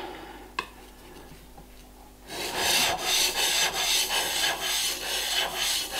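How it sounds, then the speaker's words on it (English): A blade is honed on a hard sharpening stone in traditional woodworking, starting with a single sharp tap, then steady rhythmic back-and-forth rasping strokes, close and clear, with no talking. "Then I can move over to the hard stone."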